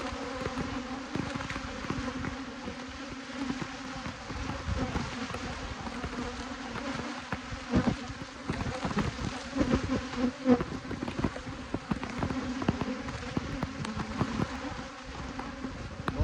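Bees buzzing close around a beekeeper's protective suit and gloves while robbing honey, a steady dense insect drone with individual bees flitting near and away, no talk.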